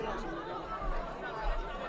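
Crowd chatter from spectators across a rugby ground, a distant, steady murmur of many voices with no single speaker standing out.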